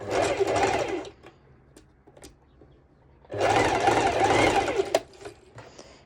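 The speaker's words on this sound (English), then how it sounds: "I'm going to make a straight stitch so it's easier for me to sew through the 2 layers of fabric, 4 layers of fabric" A sewing machine straight-stitches through several layers of bikini fabric in two loud, steady bursts, the first about a second long and the second longer, with a quiet pause and a few faint clicks between them.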